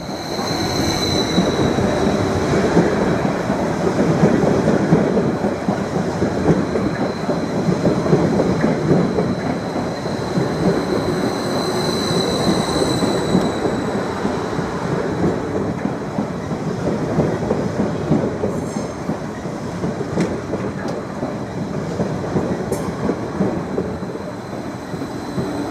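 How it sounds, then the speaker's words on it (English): A Greater Anglia Class 745 electric multiple unit pulls into a station, a loud, steady rumble of wheels and rails with a whining electric motor tone holding throughout, close to the listener and uninterrupted. "we've got the 1508 service to Norwich now arriving"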